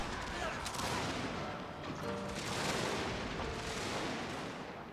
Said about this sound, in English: Damn, that was a nasty explosion.